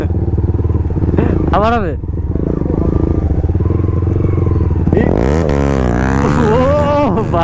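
A motorcycle engine runs steadily and loudly during a wheelie on a ride, its drone rising in pitch as it revs, with voices talking over it throughout.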